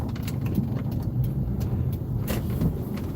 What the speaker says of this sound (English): Today the car sounds like crap.